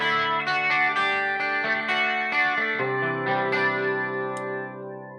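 Guitar played through a 12-string effect on a Line 6 HX Effects unit, shimmering doubled chords strummed in a quick rhythm, then a sustained chord ringing out and fading, close and clear with no voices.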